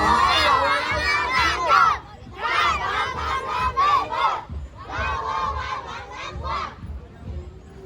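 A school cheering squad shouts in unison at a sports parade for Ban Nam Khem School's network sports competition: loud, close group chanting in three rhythmic bursts separated by short pauses.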